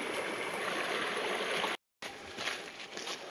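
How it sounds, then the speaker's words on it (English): A small creek flows among frost-damaged ferns in a national park in autumn, its steady broadband rush close and continuous with no voices, cut by a short silent gap partway through. "A little stream."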